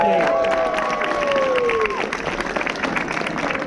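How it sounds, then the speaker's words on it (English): A crowd at a sword swallowing show applauds and cheers as a volunteer comes up on stage, a dense continuous clapping wash with a few whistles sliding through it early on. "give him a big round of applause as he joins me on"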